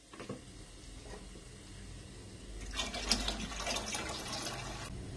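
Water pours into a pot of kadhi pakora batter, a soft splashing fill that starts faintly and then gushes louder for the last couple of seconds, close by and without talk.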